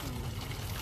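Water trickling and pouring from a newly opened potable water tap at a community water project in Nalerigu, a brief steady stream close by.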